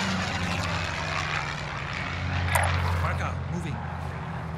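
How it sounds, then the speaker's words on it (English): A helicopter flies in a video game as a constant, loud rotor and engine drone that continues through the whole stretch while players talk over it. "Land the helicopter on the bunker."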